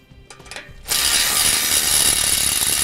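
Ratchet wrench removing U-bolts from a boat trailer frame, a few soft clicks followed by a fast, loud, continuous ratcheting burst close by, with no talk.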